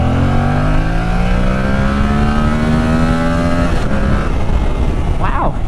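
A Yamaha R7 motorcycle pulls hard, its rising engine note climbing steadily for several seconds, then it shifts and the revs settle under loud wind noise, with a brief voice near the end.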